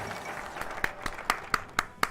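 A small, thin burst of hand clapping, a few scattered claps building into quick sharp strikes toward the end, short and moderately loud, with no talk.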